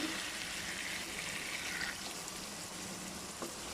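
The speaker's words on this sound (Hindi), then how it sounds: "अभी हम इसमें पानी लगा देंगे।" Water pours steadily into a pot with a soft, continuous splashing hiss, fairly quiet and close, with no talking.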